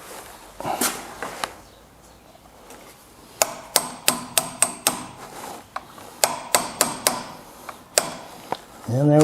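A hammer strikes a drift pin punch to seat it in a part of a Deckel machine under restoration. About a dozen sharp metallic taps come close up, first scattered, then in quick rhythmic bursts.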